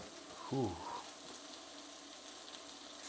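Cumin, chili flakes and gochujang frying in a hot pan, a brief louder stir-and-sizzle burst near the start settling into a steady soft crackle.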